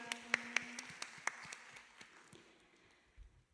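Scattered hand claps from a church congregation during a Sunday worship service, a few sharp, separate claps near the start that thin out and fade into quiet.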